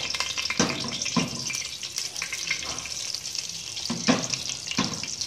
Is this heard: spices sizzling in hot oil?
yes